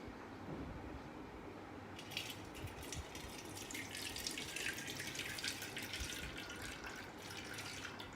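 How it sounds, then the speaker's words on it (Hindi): Water from a kitchen tap runs steadily over oily dishes sitting in a pot, a faint, continuous splashing rush with no one speaking. "थोड़ा सा पानी इनके ऊपर चलाएंगे हम।"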